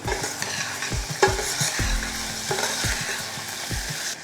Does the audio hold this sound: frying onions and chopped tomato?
yes